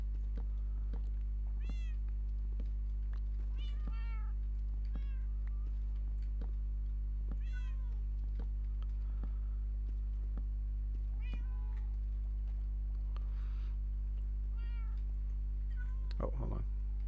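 A cat in Minecraft meows repeatedly in short rising calls spread across the stretch, faint over a steady low hum, with a louder sharp sound near the end.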